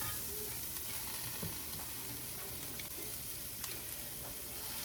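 Asparagus sizzles on a grill with a constant, bright crackling hiss and occasional pops, fairly close and steady, with no talking.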